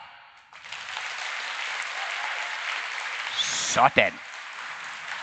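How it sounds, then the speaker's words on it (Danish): A whole hall audience in Odense claps together at once, a dense, steady roar of applause lasting about five seconds, with a brief voice cutting in near the end. "hvordan det lyder, hvis hele salen her i Odense klapper på én gang"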